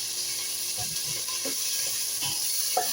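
Onions frying in a pan, a steady close sizzle and hiss with occasional soft stirring scrapes, no voices.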